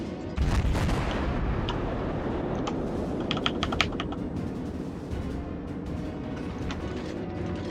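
Naval guns firing in a World of Warships ranked battle: a run of sharp, loud booms clustered near the start and again midway, over a steady roar of engine and ocean ambience, with no talking.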